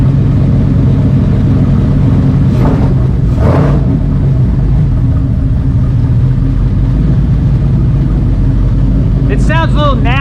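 A Ford Aluminator V8 runs in a Cobra Daytona build, a loud, close, continuous low rumble that holds steady throughout, with people talking briefly over it.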